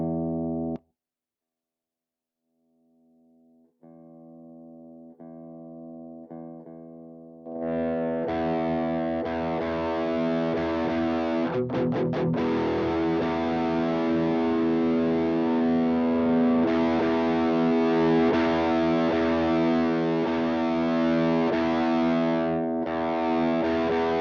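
A stereo HM-2 chainsaw-style distortion guitar rig rings out a few sustained chords, then a long, loud, heavily distorted buzzing riff follows, close and alone.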